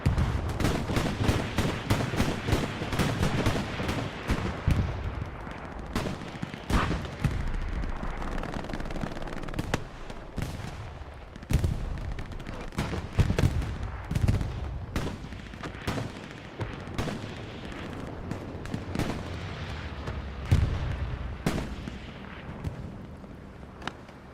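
Artillery shells crash and gunfire crackles in a Hell Let Loose match, a dense run of loud sharp bangs and heavy booms over constant rumbling battle noise, with no voices.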